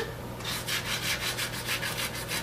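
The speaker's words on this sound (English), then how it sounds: "it will just be a light sanding like that until it is kind of a matte color" Light hand sanding of tire rubber with a steady, rhythmic back-and-forth rasp, close up and fairly loud, with no voices.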